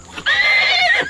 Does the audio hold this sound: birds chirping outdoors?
no